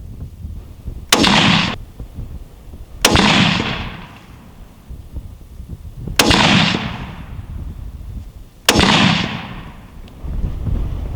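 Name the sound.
Remington .30-06 rifle shot at target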